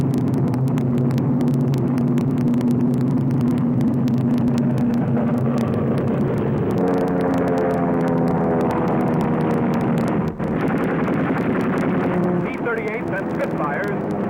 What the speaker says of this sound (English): American P-38 rise to the attack.